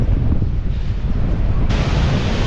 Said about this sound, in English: Surfers are out catching some waves.